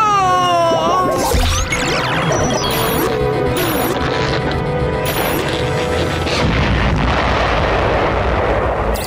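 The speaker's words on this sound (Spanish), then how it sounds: "¡Voy a estallar! Como una masiva explosión." A huge crashing blast erupts amid chaotic cartoonish sound effects, followed by a long rumbling, debris-filled roar that keeps going loudly.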